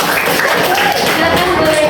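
Children and teachers clap during a coding and artificial intelligence training class at an elementary school, a short burst of lively applause with voices talking underneath.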